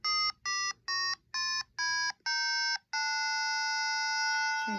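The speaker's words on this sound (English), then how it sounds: "There's the metronome. There it is on the sound." Electronic tuner metronome sounding a D reference pitch: a run of short, clear electronic beeps, then one long sustained tone, close and moderately loud with no talking.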